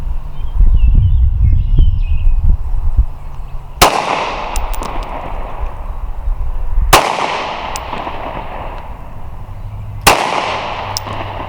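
Sig P365 and Walther PPS M2 pistols fire at a shooting range: three loud, sharp reports spaced a few seconds apart, each with a long ringing tail, over steady background noise.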